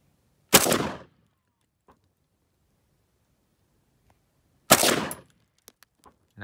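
An AK-74 rifle fires outdoors at small pumpkins. Two loud, sharp shots ring out about four seconds apart, each with a brief decaying tail, followed by a few faint clicks and knocks.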